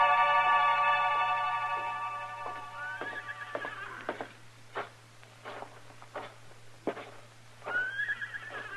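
A horse neighs in a stable in a radio drama, a long loud whinny followed by hoof clops and knocks, then another whinny near the end.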